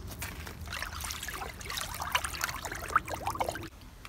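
A stick stirs homemade compost tea in a container, giving continuous soft sloshing and trickling water with small splashy swirls, close and fairly quiet, before it stops abruptly.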